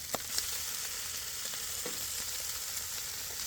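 Detwiler's corn smoked bacon frying in a pan, a steady close crackling sizzle with small pops throughout and no voices.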